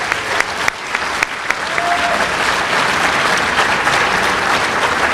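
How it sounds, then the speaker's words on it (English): Audience applause for winners at a regional police awards banquet, a few sharp early claps swelling into full steady clapping from the crowd. "Let's give one more round of applause for all of our winners tonight"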